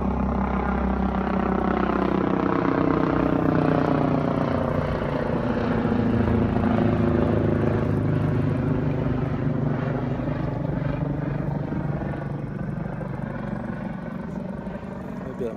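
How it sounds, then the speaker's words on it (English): A helicopter passes overhead as a loud, steady rotor and engine drone that swells and then slowly fades over about fifteen seconds, with faint speech beneath it. "That was a helicopter."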